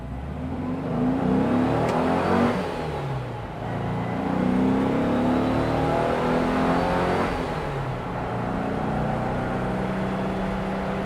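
A restored Porsche 356 drives in fast-moving highway traffic on the Pacific Coast Highway, its engine droning steadily with road and wind roar, and the revs rise and fall slightly, with no talking.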